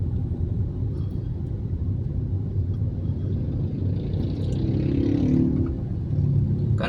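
A jammed Jakarta road gives off a dense, low rumble of idling and creeping engines that holds steady, with one vehicle swelling louder and nearer for a few seconds before easing off.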